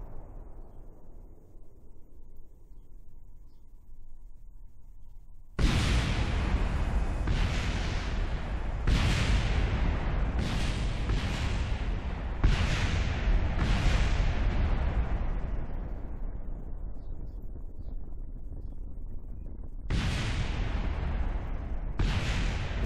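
Engines blowing up one after another on a huge plane in Kerbal Space Program, heard as a series of loud, sharp booming blasts with rumbling decay, about seven bursts spread through the stretch after a quiet opening.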